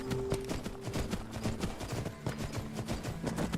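Steady clip-clop of horse hooves at a walking pace in the video game Skyrim, rhythmic thuds repeating throughout with a low tonal hum underneath.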